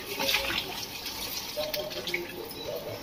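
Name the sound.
water being poured into a cooking pot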